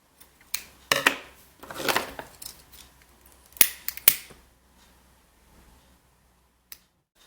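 Scissors snip the cord ends of a rainbow macrame bracelet, a handful of sharp, close metallic cuts spaced irregularly over a quiet background, with a final lone snip after a pause.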